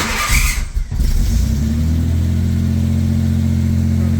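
A car engine with a newly replaced fuel pump cranks and catches, then settles into a steady, low rumbling idle close by.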